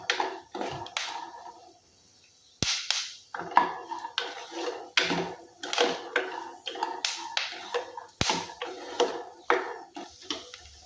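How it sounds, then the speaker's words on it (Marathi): Peanuts roasting dry in a pan for Janmashtami Govind laddu, with irregular crackling pops and sharp scraping clinks of a spoon against the metal pan, steady and close throughout. "चटचट आवाज येतोय. शेंगदाणे भाजत आहे."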